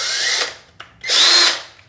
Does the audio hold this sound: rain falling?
no